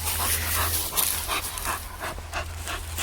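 A dog pants rapidly and steadily close by, quick rhythmic breaths over a low background hum, with no talk.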